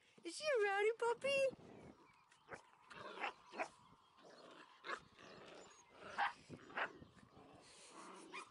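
Bark-like yips from a rowdy seven-week-old puppy come early and loud, then give way to someone talking at length, with small noises scattered beneath her voice.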